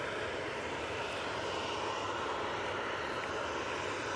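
Embraer E190 jet arriving at Manchester Airport on final approach from Helsinki, a continuous even engine rush and whine at moderate distance, steady throughout with no voices.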